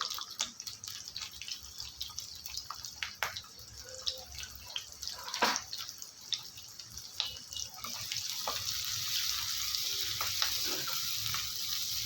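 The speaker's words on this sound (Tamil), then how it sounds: "இந்த வெங்காயம் நல்லா வதங்கி வரட்டும்" Small shallots crackle and sizzle softly frying in oil in a pan for pepper chicken fry, with scattered pops and a rising hiss toward the end; no talking.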